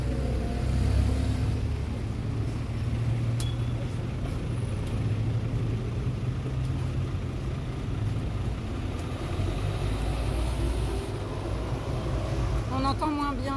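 Road traffic rolls past close by in a steady low rumble of cars and heavier vehicles, continuous for over ten seconds.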